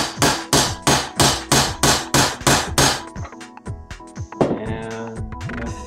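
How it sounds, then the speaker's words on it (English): Steady metallic hammer strikes driving a bearing race into a 1983 Toyota Corolla AE71 wheel hub, about eight sharp evenly spaced blows, close and loud, then lighter clinks and scraping of metal parts. "a hammer in this case is going to move it along"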